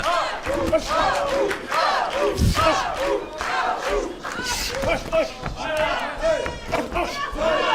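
A crowd roars and shouts at a boxing match held at Cabourg racecourse. Loud, continuous cheering and yelling from many voices fills the whole stretch.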